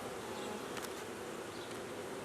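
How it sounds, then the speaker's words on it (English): Honey bees hum near an open hive during an inspection, a steady faint swarm-like drone with a few individual bees passing close. "There's a different kind of buzzing they're making."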